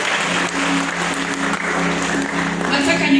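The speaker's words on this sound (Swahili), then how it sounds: "Makofi tafadhali." An audience claps in a broad, steady wash of applause for about three seconds, loud and close, with voices mixed in underneath.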